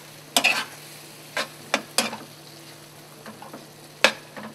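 A spoon stirs strawberry sauce thickened with cornstarch in a pan: a handful of short, distinct scraping strokes spaced irregularly over a quiet background, close and fairly crisp.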